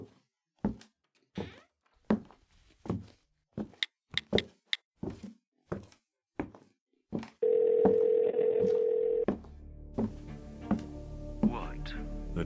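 A phone call is placed: a series of short clicks and taps gives way to a steady, continuous dial tone held for about two seconds, followed by quieter rustling and faint tones.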